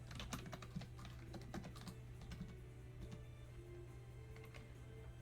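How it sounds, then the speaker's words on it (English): Computer keyboard typing in quick irregular bursts of clicks, close and fairly quiet, over a steady low hum with no talking. "The typing isn't the ASMR."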